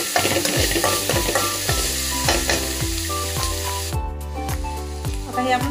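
Pizza ingredients fry in a kadai, with a steady sizzle and a clear stirring rhythm of regular scrapes against the pan. A strong musical bed plays over it throughout.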